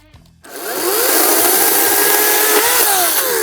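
A Ryobi 14-inch 40-volt brushless cordless chainsaw spins up loudly and bites into wood, its high whining motor pitch rising and dipping steadily as it cuts, close and continuous with no talking.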